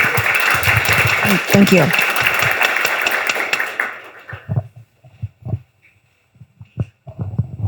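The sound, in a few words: audience applause after hackathon pitch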